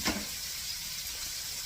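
Chopped onions hit a hot frying pan for smothered hamburger steak, giving a soft, steady sizzle and a brief clatter at the start, fairly quiet with no talking.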